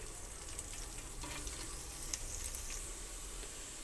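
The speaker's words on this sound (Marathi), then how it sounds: "आता यामध्ये कापलेला लसूण घालून फ्राय करून घ्यायचा" Chopped garlic frying in butter in a pan for white sauce pasta, a soft continuous hissing sizzle with faint scraping, fairly quiet, no voices.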